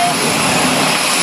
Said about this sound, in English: for V22 Osprey just arrived today, and it's a pleasure to witness